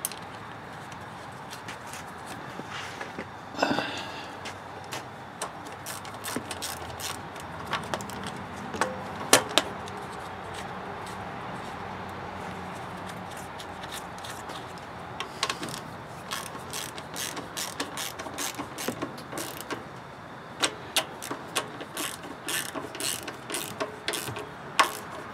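Wrench ratcheting off 10mm nuts on a Honda GX200 6.5HP engine from a DeWALT pressure washer; faint, steady ratchet clicking in short runs over a long stretch, quiet and close, with no speech.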